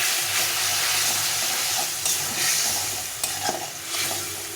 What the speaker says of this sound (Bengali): এখানে হলুদ দিয়ে এটা দিয়ে ভালো করে মশলাটাকে কষিয়ে নিতে হবে